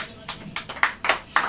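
A church congregation claps in unison, a series of sharp, evenly spaced claps building in strength over a quiet room.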